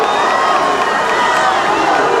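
A crowd at a slalom Super G ski race cheers loudly and without a break, a dense roar of shouting and whooping voices at close range.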